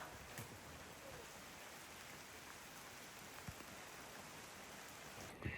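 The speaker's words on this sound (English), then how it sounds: "Bit rainy today." Light rain falls steadily at Bacuit Bay in the Philippines, a faint, even patter with occasional soft drops and no voices.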